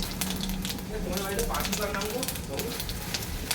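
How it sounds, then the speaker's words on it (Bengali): Panch phoron five-spice seeds sizzle hard in hot oil for a tilapia curry, a loud close crackle that continues steadily under a voice talking. "আজকে আমি পাঁচ ফোড়ন দিয়ে রান্না করব"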